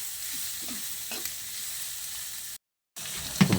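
Aromatics, chili and dried shrimp sauté in hot oil, giving a steady close sizzle with a few stirring scrapes, a brief silent gap near the end, then a louder clatter.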